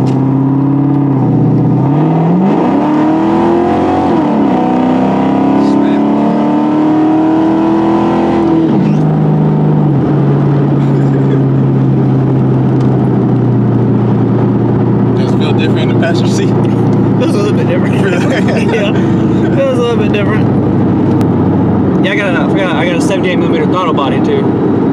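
2002 Ford Mustang GT engine under way, loud and close with revs climbing and falling early, then a steady drone as it cruises, with a person talking over much of it.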